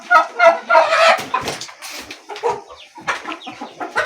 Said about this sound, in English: I have this chicken that is laying eggs.